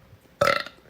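A single short, deliberate burp from a woman, close and loud, rising abruptly out of near silence and cut off quickly.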